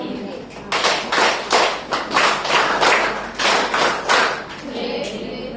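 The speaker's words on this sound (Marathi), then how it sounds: "तर मॅडमचं परत एकदा तुमच्या टाईपच्या टाळ्या वाजवा" Audience at a public health centre event in Panvel, on cervical cancer screening and vaccination, claps rhythmically in broad bursts for a female official, the claps loud and close over a murmur of voices.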